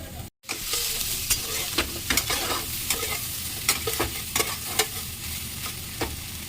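Soy chunks frying in oil in a pan with turmeric and salt, a continuous close sizzle broken by repeated clinking, scraping stirs of a spatula against the pan, with no voices.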